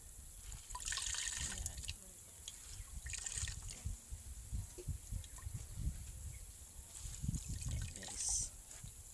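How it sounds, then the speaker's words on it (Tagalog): Water trickles and drips from boiled cassava leaves being squeezed by hand, a faint irregular dribbling with a soft voice speaking briefly over it. "Pipigain po nyo ito para matanggal yung alat guys."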